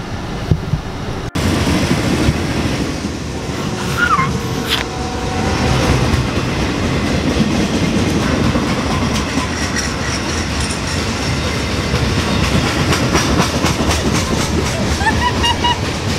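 A train at a station rumbles steadily with rhythmic clatter, a broad continuous roar of rail noise, a faint squeal rising briefly partway through.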